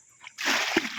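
Water pours and splashes from the drain of a concrete tilapia fish pond, a steady rushing flow that starts abruptly after a quiet moment, with one brief heavier splash.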